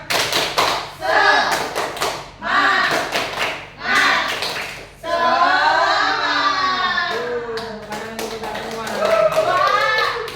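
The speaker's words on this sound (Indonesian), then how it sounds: "Tepuk semangat aja yuk" A classroom of children performs the tepuk semangat clapping chant: bursts of rhythmic group claps alternate with chanted voices, and a teacher's voice joins in.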